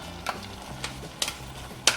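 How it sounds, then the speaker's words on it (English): Red beans, crushed tomatoes and diced peaches cook together in a pot, with short bursts of stirring scrapes and clicks over a low simmering sizzle. "After boiling the beans with the crushed tomatoes for 5 minutes, we add the diced peaches."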